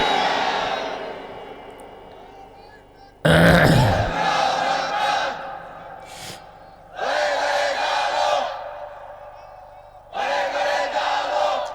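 A large crowd at an Islamic tafsir sermon shouts the takbir response loudly in repeated bursts, with a preacher's voice leading between the swells of massed voices.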